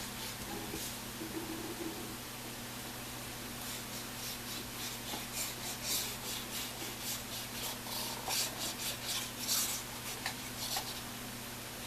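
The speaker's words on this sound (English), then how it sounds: "And then I can trim up these edges again." Steady rubbing and scraping from edges being trimmed on a handmade craft display box, quiet and close, with a low constant hum beneath and rapid rasping strokes that grow busier toward the end.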